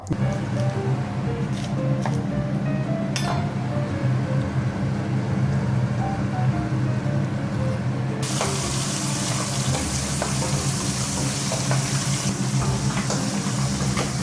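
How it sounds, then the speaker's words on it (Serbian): Chicken skin fries in a hot pan, giving a steady, loud crackling sizzle with spattering fat that runs without a break and grows brighter and hissier partway through. No one speaks. "Skidam kožu, da propržimo na tiganju, tako da bude onako hrskava."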